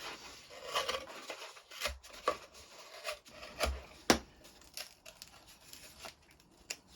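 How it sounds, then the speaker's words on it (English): A sharp blade cutting through a cardboard packing tube, giving irregular scraping, crinkling and tearing sounds with several sharper snaps, fairly close and quiet, with no speech. "Be sure you have a really sharp blade and just cut it in the same manner"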